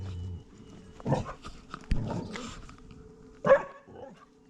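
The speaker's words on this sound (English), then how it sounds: "There's back the neighbor's dog." A neighbouring dog near a garden bed barks several times in short, separate bursts against a quiet outdoor background, with one louder, closer bark near the end.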